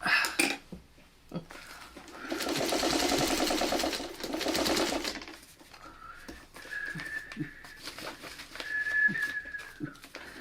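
A sewing machine stitching a quilt block, heard in a steady rapid whir for a couple of seconds, then quieter intermittent stitching and hand-cranked bursts with small clicks, close and fairly soft, with a few faint vocal sounds.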